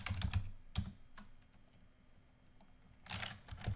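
Light clicks of a computer keyboard as a few words are typed, quiet bursts of keystrokes separated by a brief pause, close and alone.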